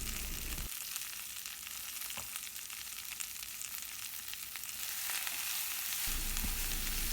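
Sliced okra sizzles steadily in a hot pan with turmeric and salt, a loud, even crackling hiss that continues close-up throughout.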